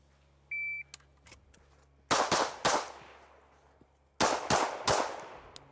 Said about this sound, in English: I'm going to shoot 2 to the chest and 1 to the head